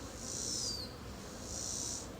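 Honey bees on a crowded hive frame give off a soft, steady buzzing hum during a summer hive inspection, faint and continuous with a couple of brief swells as bees pass close.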